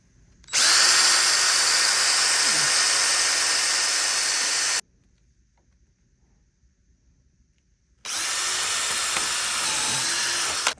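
A power drill bores holes into a plastic cooler body to fit a replacement hinge, running in two long, loud, steady whining bursts close by with a silent pause between them.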